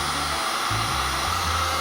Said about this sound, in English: Okay, we have our handy dandy heat gun.